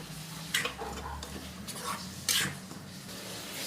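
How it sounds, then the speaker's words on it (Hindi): Maggi noodles being stirred in a pan as they cook, a few brief scraping and clinking strokes against a low steady background. "फिर इसके बाद थोड़ा स्टर कर लेते हैं इसे"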